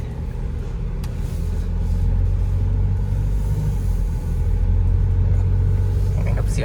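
Isuzu MU-X 2022 engine heard from inside the cabin while driving at about 40 km/h, a steady low rumble with road noise throughout, moderately loud and continuous.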